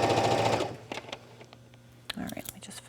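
A sewing machine runs orange thread through fabric for yoga pants, with a short rapid mechanical whir up front and then scattered clicks and taps, nearby and moderately loud.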